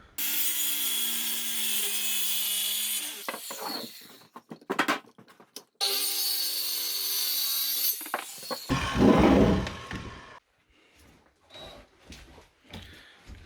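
A power saw cuts wooden boards for storage shelving, with sustained loud whining bursts, pauses and clattering handling noise between cuts, and a dog barking faintly at times.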